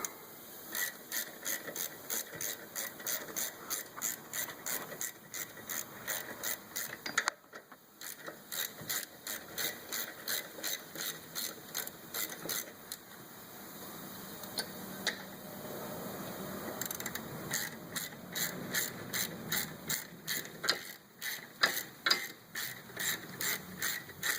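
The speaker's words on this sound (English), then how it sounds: "you can always switch back to the smaller wrench, which is a little bit faster and less cumbersome" A ratchet wrench loosens rear brake caliper guide bolts, clicking in quick, regular runs with a short pause partway, close and clear with no talking.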